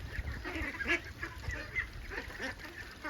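Ducks call with a run of nasal, honking quacks that come in short bursts, moderately faint and with nothing else heard around them.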